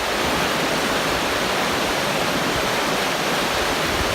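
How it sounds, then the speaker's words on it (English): The North Umpqua River rushes in a loud, steady, broadband roar, like a close waterfall or rapids, constant throughout with no voices. "So there she is, the North Umpqua River right behind us."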